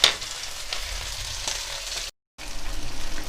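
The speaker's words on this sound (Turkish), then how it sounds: "biberler çok çabuk kızarır. Kızarmaya başladı bile" Peppers sizzle steadily in a hot pan, a dense crackling hiss that cuts out briefly and then resumes just as loudly.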